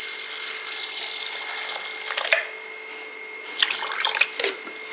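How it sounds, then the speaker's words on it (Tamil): Flattened rice (aval) rinsed in a bowl of water, with short splashing and swishing bursts close by over a steady background hum, no talking. "இதை வந்து தண்ணியில் வந்து நல்லா அலசிக்கிறணும்"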